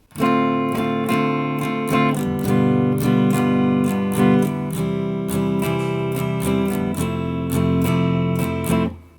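Open chords strummed on an acoustic guitar, ringing and full, with a steady rhythm of repeated strums and chord changes every couple of seconds.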